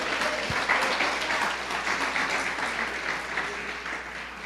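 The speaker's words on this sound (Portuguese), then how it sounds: "Dê uma salva de palmas ao Senhor." Congregation applause at a church service, a sustained wash of many hands clapping at an even level throughout.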